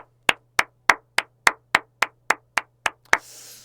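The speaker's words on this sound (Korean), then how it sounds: "박수 한번 치시죠" Clapping at the end of a lecture comes as about eleven sharp, evenly spaced claps in a steady rhythm, close and distinct over a low electrical hum, followed by a brief soft wash of noise.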